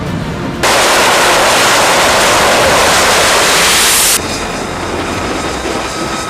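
Lockheed Martin F-35C carrier-based fighter jet with folding wings, arrestor hook and reinforced airframe: a loud, steady broadband roar that surges in suddenly, holds for several seconds, then drops back to a lower rumble.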